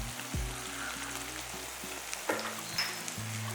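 Prawns frying in a pan give off a steady sizzle, with a few soft stirring knocks over a low background hum.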